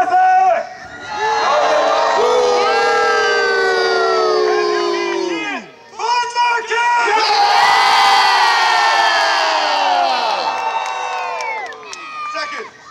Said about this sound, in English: Who cheers for Arthur?